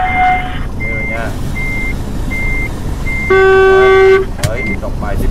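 A tractor-trailer in Euro Truck Simulator 2 beeps its reversing alarm in a slow, repeated pattern during a Class C licence test, over a steady engine drone, with a louder horn-like tone near the end.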